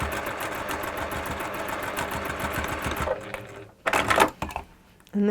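A sewing machine runs top stitching in a rapid, even mechanical chatter for about three seconds, then stops, followed by a few short bursts of handling noise.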